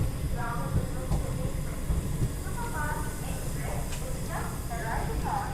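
The Cherlapalli–Chennai superfast express pulls out of Nadikudi Junction with a steady low rumble and faint hiss, while people talk nearby over the train noise.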